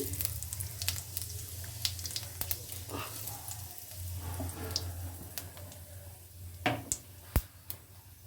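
Cumin seeds tempering in hot oil in a pan just used for frying omelettes, a steady soft sizzle with scattered crackles and pops, close and fairly quiet.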